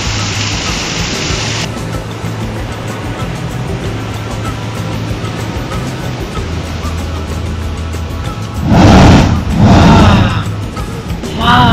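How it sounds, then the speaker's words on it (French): Roaring waterfall at Papé Ana Ana in Tahiti, a steady broadband rush of falling water throughout, with two louder surges near the end. "C'est la cascade du coup de Papé Ana Ana."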